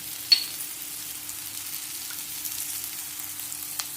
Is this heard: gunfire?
no